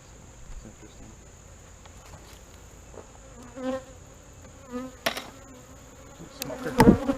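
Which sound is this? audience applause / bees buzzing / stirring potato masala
bees buzzing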